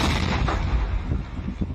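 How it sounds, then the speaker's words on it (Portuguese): Police set off controlled explosions of seized explosives at a landfill in Araçatuba, Brazil. The blasts form a loud, dense rumble with a few sharper cracks, lasting the whole moment with no voices. "Explosões controladas feitas pela polícia em um aterro sanitário de Araçatuba."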